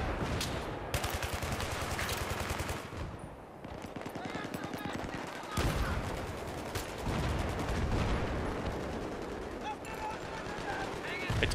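Rapid automatic gunfire from the Battlefield 3 shooter on the Seine Crossing map, long sustained bursts rattling loudly with brief pauses, mixed with other battle noise and a player's voice talking over it.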